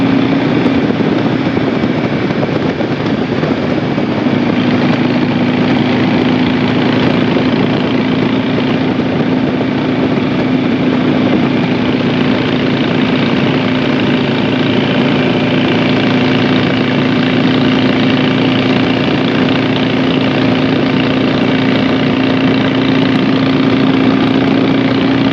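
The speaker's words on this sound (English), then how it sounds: "I can really hear that wind." Roaring wind buffets a rider on a 2006 Harley Sportster motorcycle along a country road, a loud, constant rushing noise with the engine droning steadily underneath.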